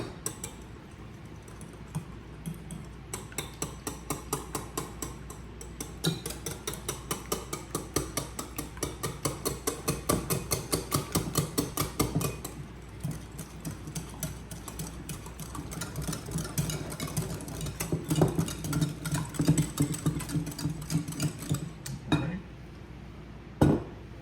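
A whisk beats crumb cake ingredients in a bowl, producing fast, rhythmic clinking strokes in two long bursts separated by a brief pause, with no talking.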